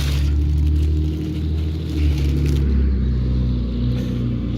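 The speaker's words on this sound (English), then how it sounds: "A truck going by right now that's loud." A loud truck drives past outdoors with a deep, steady rumble that swells briefly and then fades slightly, close by and heard with no talking.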